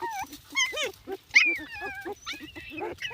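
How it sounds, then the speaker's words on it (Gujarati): A dog on a village farm yelps and whimpers in a run of short, high, pitched cries close by, with rural background noise. "જો કુતરી ટાંગો જાલીને લઈ જાય"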